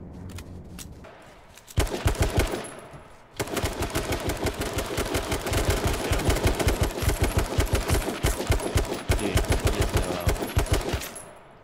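Sustained automatic gunfire in the battle royale game H1Z1 King of the Kill, rapid rhythmic shots pausing briefly then firing in a loud, near, continuous burst for several seconds.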